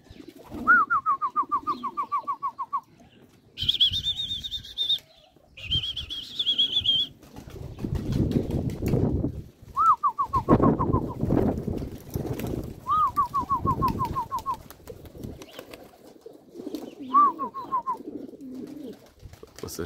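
Young pigeons coo in short descending bursts while wings flap noisily in between, several rounds of calls spaced across the recording, close and clear.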